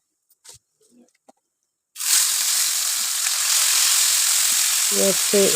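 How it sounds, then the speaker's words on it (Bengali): Tangra fish frying in oil in a pan: after a second of faint clatter and quiet, a loud, steady broadband sizzle bursts in and holds close and continuous to the end, with a few brief tonal clinks near the finish. "এইভাবে সেকেন্ড ব্যাচটা শেষ করে এইভাবে প্রায় সব মাছ ভেজে নিলাম"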